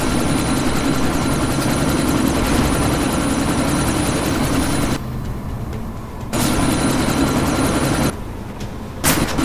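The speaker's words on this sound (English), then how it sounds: "you need to disable that chopper" Helicopter in the video game Deus Ex: Mankind Divided, a loud, close, steady rotor and engine roar that cuts out briefly twice before resuming.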